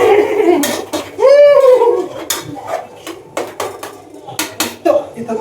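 A metal spoon scrapes and clanks against a pot while mushrooms roast, loud close knocks in an uneven rhythm with one ringing scrape, and a voice talking between the strokes.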